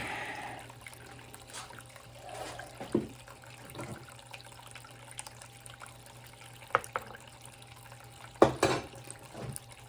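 Water from a tap running into a pan of paydirt, a faint, uneven trickle and splash with a few louder sloshes, heard alone without talk.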